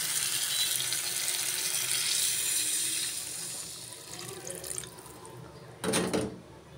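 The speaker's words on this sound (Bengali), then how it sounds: "তরকারিটি কষানো শেষ, এখন জল দিয়ে দেব।" Water pours steadily into a pot of hilsa fish curry for a few seconds, a close rushing splash that tapers off, followed by a brief clatter near the end.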